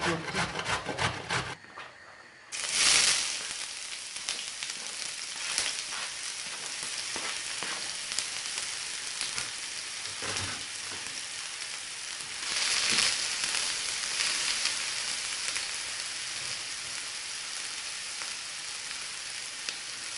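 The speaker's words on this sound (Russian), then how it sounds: "Сейчас обжарю, пропастирую" Grated carrot frying in a pan gives a steady broadband sizzle with scraping and stirring noises. A louder burst comes near the start, then the hiss continues evenly throughout, with no speech.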